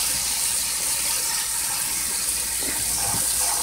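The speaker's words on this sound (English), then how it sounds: "Just give them another rinse and give them a good shake." Dry Great Northern beans are rinsed with running water and shaken, a steady close hiss of water with some clattering and rattling toward the end, no talk.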